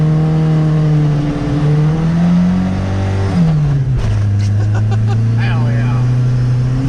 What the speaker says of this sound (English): So we out here doing some snow drifting at the local spot.